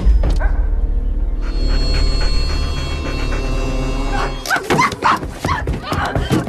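A dog gives several short, sharp barks near the end, after a stretch of steady droning background tones.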